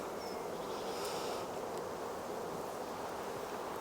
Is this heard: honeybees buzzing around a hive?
yes